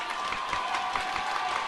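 A basketball crowd claps steadily at an Ave Maria game, a dense, continuous patter of many hands filling the arena without a break, with no voices standing out.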